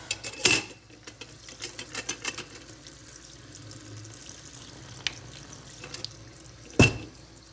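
A small splash of water poured over green tea leaves in a teapot to rinse them for Moroccan mint tea, brief pouring and trickling with light clinks of metal and glass, two sharper knocks at the start and end.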